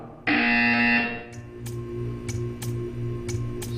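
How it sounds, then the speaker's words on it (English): A loud, sustained electronic buzzer in Portal 2 blares for under a second, followed by a series of regular clicking ticks against a low hum. "You will hear a buzzer."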